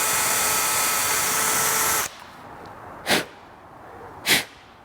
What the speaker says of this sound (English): that's pretty normal with a high-speed steel drill bit going into something hard like these studs